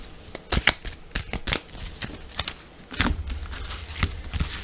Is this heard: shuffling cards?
yes